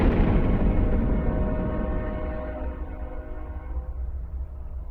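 A train on railway tracks in the Philippines passes close and loud, a heavy low rumble with a sustained horn-like tone that slowly fades over several seconds, no voices.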